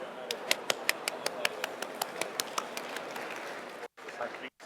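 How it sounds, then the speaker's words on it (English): An audience applauds at a finance panel discussion; a few sharp, close, regular claps stand out over a thinner wash of clapping, which fades while people begin talking. "Please join me in a big round of applause."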